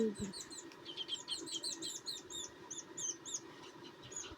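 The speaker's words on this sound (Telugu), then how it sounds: "అక్కడ పిట్టెలు చూడండి" Small birds chirp in quick, high repeated tweets, a busy chatter of several calls across the whole stretch, fairly faint over a low outdoor rumble.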